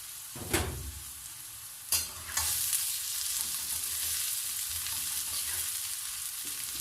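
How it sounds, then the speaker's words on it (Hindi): Sliced onions frying on high heat in a pan for a chicken jalfrezi, with a steady close sizzle throughout and a few sharp clattering stirs early on. "अनियंस को हम गोल्डन ब्राउन कर देंगे।"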